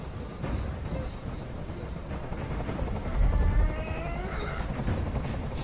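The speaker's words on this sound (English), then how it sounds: "Tell that helicopter to get out of here." A helicopter in the video game Detroit: Become Human drones steadily with a low rotor rumble that swells briefly in the middle, continuous throughout.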